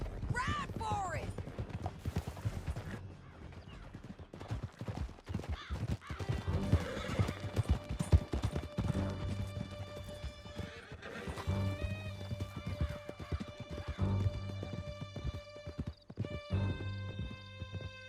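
Horses galloping in Red Dead Redemption 2, steady clip-clop hoofbeats with neighs and whinnies over a tense stretch of riding, joined by shouting voices and bursts of gunfire-like cracks.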